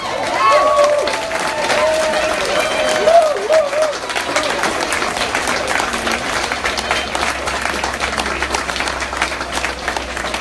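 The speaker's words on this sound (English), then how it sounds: "I would like for you all to applaud the people who put this on" Crowd applause at an outdoor march for healing and justice over police killings, sustained clapping and cheering from a large gathering. A voice speaks over it at first, with a low rumble underneath later on.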